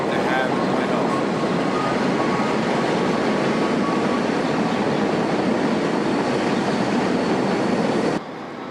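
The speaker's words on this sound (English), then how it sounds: "And here's our train. This is it. This is it. This is it. A train northbound." A northbound train passes close by with a loud, continuous roar of rolling cars that cuts off abruptly near the end. A voice may sit under the noise.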